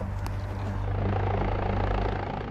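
Helicopter coming in to land on a ski slope in the Black Forest during a mountain rescue, its rotor throbbing loud and steady throughout with a dense roar.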